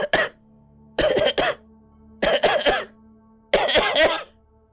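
Four bursts of harsh coughing, each a quick cluster of two or three coughs, separated by short pauses, close and clear, in a narrated audiobook of a gothic horror story.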